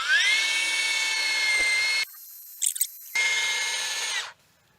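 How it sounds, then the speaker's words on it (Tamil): A power drill bores into a hard red sanders tree trunk, a loud steady high whine that cuts out, resumes after a brief scrape and then stops, with no talking. "இப்ப இந்த மரத்தை வந்து நம்ம ட்ரில் பண்ணி பார்ப்போம்"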